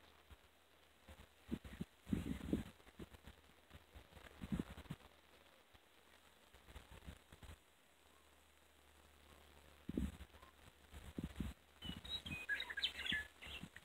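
Small birds chirp in short bright bursts outdoors, mostly faint and scattered, with louder thumps and handling noise around them.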